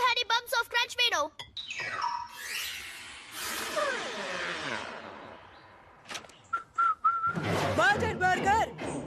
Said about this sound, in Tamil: விசில் அடிக்கிறத முதல்ல நிறுத்து